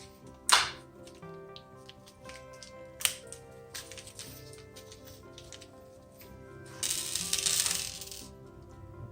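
Metal bearings and washers being stacked onto 2-inch screws for a router base plate fence: scattered light clinks and taps with a couple of sharper metallic knocks, then a longer rattling jingle near the end.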